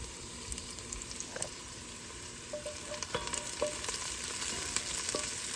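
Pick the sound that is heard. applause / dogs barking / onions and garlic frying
onions and garlic frying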